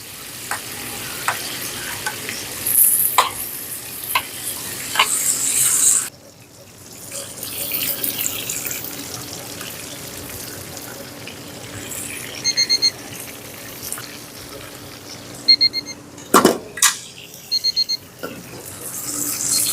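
A tomahawk steak sizzles steadily in a hot, too-small pan with butter and herbs while a spoon clinks and scrapes basting it, with occasional louder clatters close by.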